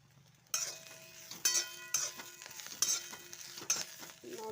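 Dry red chillies roast in a little oil in a pan, destined for a stone-ground red chilli paste: a soft, continuous sizzle broken by repeated sharp scraping and clinking stirs at an uneven rhythm, close by, with no speech.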